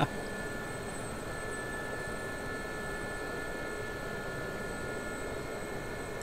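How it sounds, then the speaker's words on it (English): Helicopter engine in the flight simulator game DCS, Normandy map, a steady, unbroken whine and rushing drone holding at an even level throughout, with no talk. "your helicopter's too loud"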